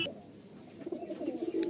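Kaldam pigeons coo in low, soft throaty rolls close by, quiet at first and growing a little fuller toward the end, with no talking.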